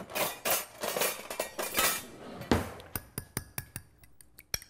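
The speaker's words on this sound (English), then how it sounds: "I have 2 eggs. that I'm going to lightly beat before I add them to the pan" Two eggs are lightly beaten in a bowl with a utensil, giving a quick run of close, wet whisking taps that settles into sharper, spaced clinks against the bowl.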